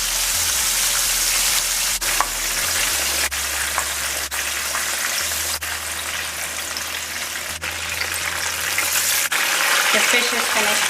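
Fish frying in hot oil in a Guyanese home kitchen, a steady loud crackling sizzle throughout with a few clicks and a low hum underneath.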